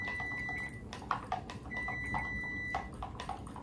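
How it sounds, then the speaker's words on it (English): A kitchen timer goes off with a steady high electronic tone in repeated beeping bursts while sauce is being thinned in a home kitchen, heard over a constant low background hum. "I got a timer going off over there"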